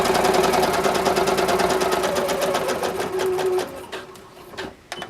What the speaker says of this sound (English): I'm stitching really close to the edge, kind of as close as I can.